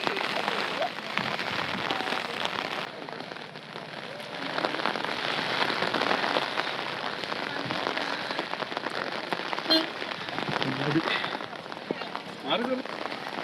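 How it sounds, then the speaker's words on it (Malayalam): Steady rain patters and hisses across a misty hillside at Ponmudi, a dense, even drizzle sound lasting throughout, with faint voices now and then underneath. "മഴയും മഞ്ഞും"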